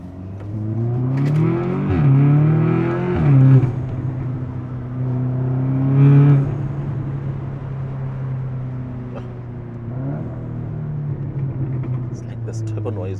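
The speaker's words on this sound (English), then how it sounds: "This turbo noises." An Audi S3's engine revs up and settles repeatedly, its tone climbing and falling, with a turbo whooshing and whistling over the steady rumble.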